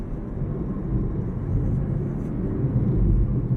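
A Dacia Spring electric car rolls along a mountain road toward Briançon, heard from inside as a steady low rumble of tyres and wind that swells slightly toward the end, with no voices.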